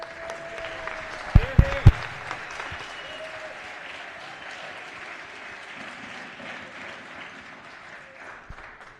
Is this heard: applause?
yes